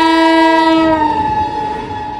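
A loud, sustained train horn blares, then fades as a rolling rumble of the passenger train carries on underneath.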